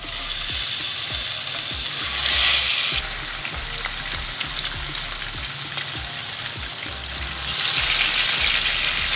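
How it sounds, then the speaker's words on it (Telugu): Marinated fish pieces frying in a pan of hot oil, a dense, close sizzle running continuously with soft, regularly spaced thuds and pops, swelling louder twice. "ముక్కల్ని ఒక్కొక్క ముక్కల్ని తీసుకుంటూ ఈ విధంగా ఒక్కొక్క పీస్ని ఈ విధంగా వేసుకుందాం"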